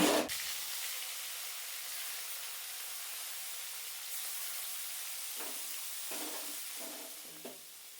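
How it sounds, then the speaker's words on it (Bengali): Bitter gourd frying in hot oil for shukto, a loud steady sizzle that begins with a sharp hiss and is broken near the end by a few stirring scrapes, with no talk. "সব শেষে আমি ভেজে নিচ্ছি করলা"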